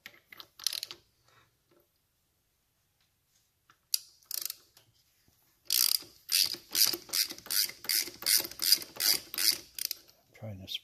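Ratchet wrench clicking while tightening the rotor nut on a 1975 Norton Mk3 motorcycle, a few short bursts at first, then a long series of rhythmic ratcheting strokes, close and crisp.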